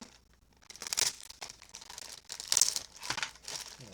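A knife slicing open the packaging of a Raspberry Pi 4 Smarticase, heard as close crinkling and tearing bursts of plastic and film, loudest around the middle and end, with no talk.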